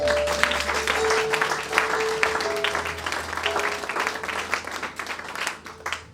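A church congregation applauds during a French sermon, steady clapping that fills the room, with a sustained organ or keyboard tone beneath and the clapping thinning toward the end.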